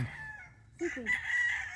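Chickens on a hillside farm, with a rooster giving a short crow-like call over faint clucking and background noise.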